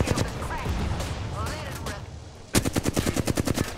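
Video game gunfire in Apex Legends: a fast, loud automatic burst of closely spaced shots arrives partway through, following a stretch of mixed game noise and a voice talking.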